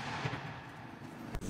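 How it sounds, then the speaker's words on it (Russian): Dull, continuous rumbling booms with a sharp crack near the end, like distant explosions heard over low background noise, from shelling in Bakhmut, Ukraine. "Слышны постоянные взрывы."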